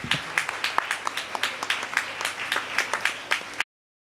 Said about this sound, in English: A big round of applause to all of you.